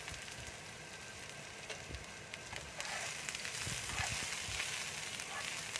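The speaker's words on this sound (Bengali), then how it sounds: "তেল দেখো গরম হয়ে গেছে, এবার আমি পেঁয়াজ কুচিটা দিয়ে দিচ্ছি তেলে" Chopped onion dropped into hot oil sizzles steadily at close range, with the crackle rising and growing denser partway through, and no one speaks.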